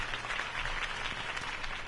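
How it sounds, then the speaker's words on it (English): Crowd applause from a Batman video game, a steady wash of clapping that holds at an even, moderate level through the whole short stretch with no voices over it. "could have heard that applause"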